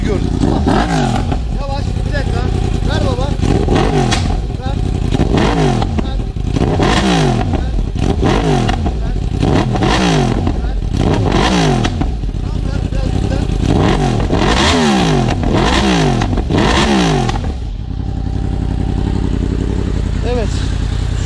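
A Yamaha R1 motorcycle with an aftermarket exhaust revs repeatedly in a steady series of rising and falling bursts, loud and close, with a faint voice now and then.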